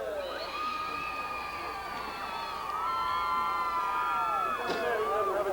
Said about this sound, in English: You can hear the crowd giving the drivers a big hand